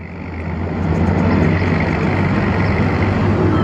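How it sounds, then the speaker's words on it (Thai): A farm-tractor-style mud-racing vehicle with a 6HK 260-horsepower engine swells up over the first second, then holds a steady, loud, heavy engine roar. "สำหรับคันนี้เครื่องยนต์ 6HK ครับ 260แรงม้านะ"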